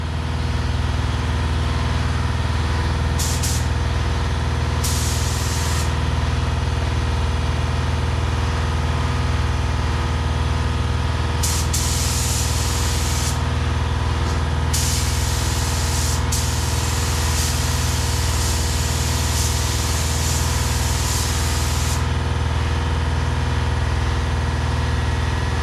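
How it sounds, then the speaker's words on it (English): A spray gun loaded with SPI epoxy primer hisses out several test bursts of varying length, some short and one long, over a constant loud mechanical drone from nearby equipment. "A few test squirts, it seems like it's spraying better."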